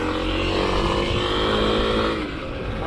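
A Kawasaki KLX 300 dirt bike's single-cylinder engine drones loudly and up close with rich harmonic revving, climbing and then easing slightly near the end as the ride gets underway.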